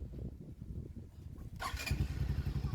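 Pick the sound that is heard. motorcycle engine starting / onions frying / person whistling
motorcycle engine starting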